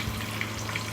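Fish roll pieces frying in oil give off a dense, even bubbling hiss that fills the moment without pause, close and steady.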